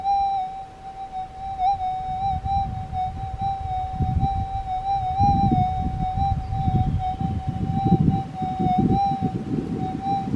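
A metal detector's steady high electronic tone drones throughout, with bursts of crackling, rumbling noise rising and falling underneath it.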